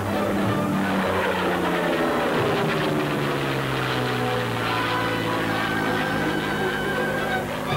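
A propeller airplane flies in at 130 miles an hour for a Skyhook pilot pickup test, its engine a loud, close, continuous drone and roar with no talk.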